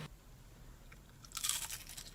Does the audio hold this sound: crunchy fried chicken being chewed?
yes